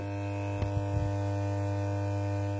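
Low steady mains-frequency hum from a refurbished ballast on a 1974 Holophane S400 lamp, faint and unchanging throughout, with a couple of soft clicks early on.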